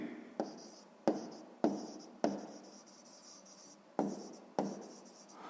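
A pen writes on paper in a math exercise notebook, close and quiet, with about seven short scratchy strokes each starting with a tap, set in a quiet room.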